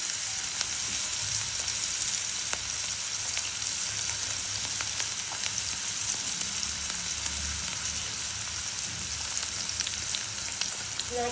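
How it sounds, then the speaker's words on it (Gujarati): Finely chopped onion fries in a pan on a low gas flame for a sev tomato sabji, a continuous gentle sizzle with scattered small pops and occasional stirring, with no voices. "હવે હું તેની અંદર ડુંગળી નાખી દઈશ, ઝીણી સમારેલી"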